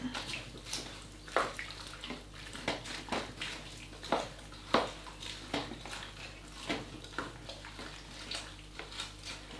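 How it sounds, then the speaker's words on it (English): Beef stroganoff stirred in a slow cooker, a spoon scraping and knocking against the pot in a steady rhythm of wet swishes and clinks, close and moderately loud, with no voice over it. "So you're going to give that a good stir now to try and sort of amalgamate things a bit."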